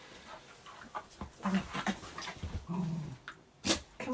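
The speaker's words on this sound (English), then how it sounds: "Doggy on my nose." A dog close by pants and gives soft growls and whimpers in scattered bursts, fairly quiet and intimate.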